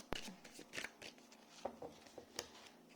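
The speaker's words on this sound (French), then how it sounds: "Les énergies dominantes, je prends deux cartes." Tarot cards riffled and drawn from the deck during a love reading: a string of crisp, papery flicks and snaps, close and moderately loud, with a brief shuffling burst and no talking.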